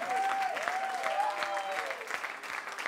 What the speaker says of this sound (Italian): vogliamo fare un grande applauso e ringraziare di cuore il Tepepa